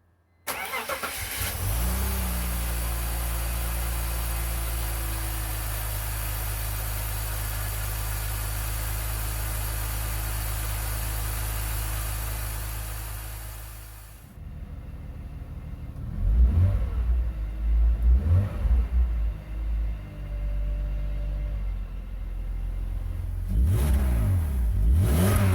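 A restored BMW car engine cranks and catches, settles into a steady low idle for several seconds, then revs up and down in repeated blips.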